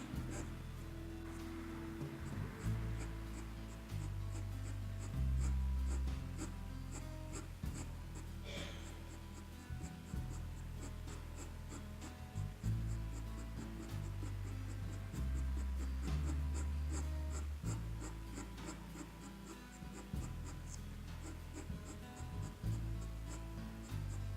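Ink pen drawing hair on paper, continuous scratchy strokes of the nib rubbing the sheet in quick repeated bursts, close and steady under background music.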